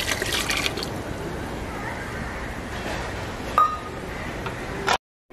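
Water is poured into a pot of cooked dal, tamarind pulp already added, while a steady liquid splash fills the kitchen, with a few faint clinks before it stops abruptly.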